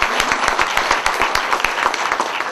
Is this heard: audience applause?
yes